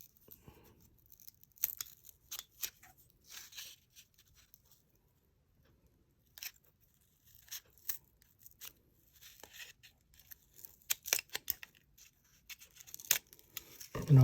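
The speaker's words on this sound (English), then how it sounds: "Let's make a cut." Cutting a small notch for a rubber band, a series of short scraping and snipping bursts separated by quiet pauses, close and soft, growing busier toward the end.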